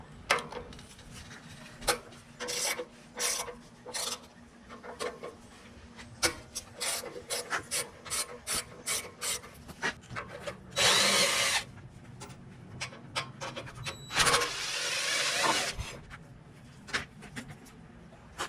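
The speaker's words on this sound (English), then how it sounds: "We're just going to take our 10mm 12-point socket and just remove these." A 10mm 12-point socket on a ratchet removing the brake caliper bolts of a Harley Davidson Touring motorcycle, close rapid ratcheting clicks in bursts with a couple of longer grinding stretches, no talking.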